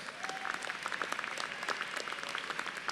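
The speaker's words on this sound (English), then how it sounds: "Give them a round of applause." Applause from a large crowd at a university graduation commencement ceremony, steady and somewhat distant, with dense overlapping claps throughout.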